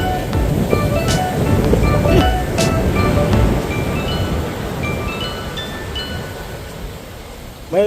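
Ocean waves roll steadily onto a sandy beach where surfers wait, a loud continuous wash of surf with some wind noise and no one speaking.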